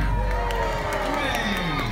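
Crowd cheering at a Christmas anniversary celebration in Drayton Manor's Thomas Land, a dense, loud roar of voices and children's shouts that holds steady throughout.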